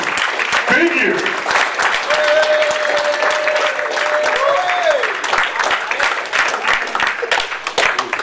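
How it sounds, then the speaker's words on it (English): A spoken-word evening audience applauds loudly and steadily for the final poet, a dense wash of clapping with cheers and a brief voice rising over it. "Put your hands together. Loud clap for our last poet of the evening."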